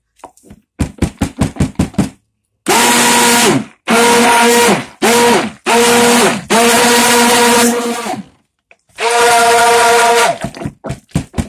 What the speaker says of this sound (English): give this another quick, good buzz with the stick blender